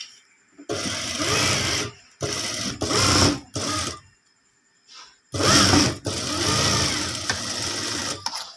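A sewing machine stitches a motif patch onto trousers in several rapid, close bursts of whirring needle action, with short pauses between runs.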